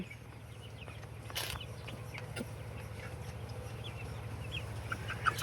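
Chickens, one of them sick with fever, cluck softly in the distance over a low steady hum, with a few faint scattered calls.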